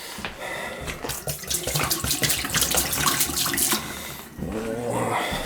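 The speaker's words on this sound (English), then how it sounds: "Shower." Water runs steadily from a shower at a summer cottage while the plumbing is being winterized. It is a continuous, close splashing rush that changes tone briefly near the end, with no talking.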